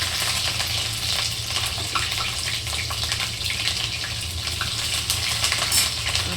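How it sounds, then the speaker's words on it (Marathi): Mustard seeds, cumin, garlic and green chilli sizzle in hot oil for an okra dish, a steady close hiss with scattered pops and crackles running throughout. "जिरे टाकलेला आहे, लसूण टाकलेला आहे, आता मिरची."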